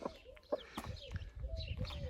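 A broody hen clucks softly and repeatedly while feeding her newly hatched chicks, with faint chick peeps mixed in and light rustling nearby.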